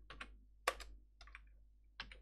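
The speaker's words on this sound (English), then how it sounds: "German keyboard." Faint typing on a German computer keyboard: a few scattered key clicks in small clusters with quiet gaps between, close and isolated with no talk.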